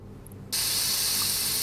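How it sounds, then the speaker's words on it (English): An aerosol can of DW400 spray lubricant in Offroad Mechanic Simulator: after a faint lead-in, a sudden loud, steady hiss of spray starts and keeps going without a break, with no voices. "This is like spray lubricant, I believe."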